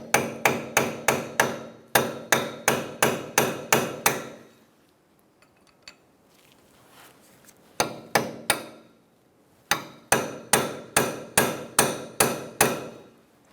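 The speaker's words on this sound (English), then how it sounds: "Let's unping our axle nut so we can remove it." On a 2014–2019 Kia Soul, hammer blows unstake the axle nut in quick rhythmic bursts of sharp metallic strikes, about seven hits per burst in three bursts, close and loud, with a quiet gap of faint clinks between.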